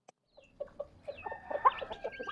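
Broiler chickens on a small poultry farm cluck and murmur softly in a quiet chorus, with short irregular calls rising slightly toward the end.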